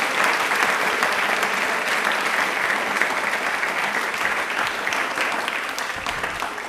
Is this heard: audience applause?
yes